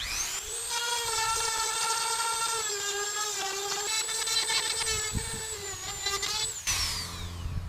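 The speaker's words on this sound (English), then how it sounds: "if I touch the nail too much with the burr, it dulls it very, very quickly" A rotary burr grinds into a rusty nail in the timber of a wooden boat, giving a high, steady whine with a slightly wavering pitch that runs for several seconds before it cuts off abruptly.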